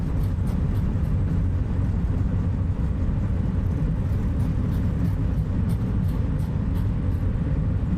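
Steady broadband roar from airliner thrust reversers during the landing rollout in a flight simulator, a dense low rumble holding at constant loudness throughout, with faint rhythmic ticking above it and no speech.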